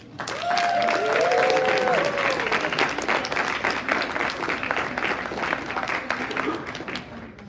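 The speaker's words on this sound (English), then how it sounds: "can we get a round of applause for our judges?" Sustained audience applause at a robotic boat competition awards ceremony, loud and steady clapping from a crowd filling the whole stretch, with a brief voice audible near the start.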